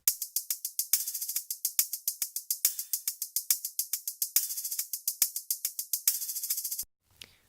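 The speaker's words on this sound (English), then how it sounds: "I've got a pretty standard hi-hat loop that sounds like this" A standard hi-hat drum loop plays on its own: crisp, bright, fairly quiet ticks in a fast steady pattern, with a few accented open hits, ending abruptly.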